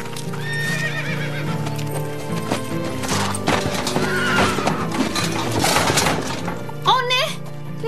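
A mare from the horse-racing world neighs loudly over steady clip-clopping hooves, with music and voices running underneath and a final sharp whinny near the end.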